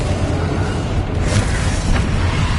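A Confringo spell goes off in the video game Hogwarts Legacy as a loud, continuous booming roar and rumble that stays dense throughout, with a few brighter bursts.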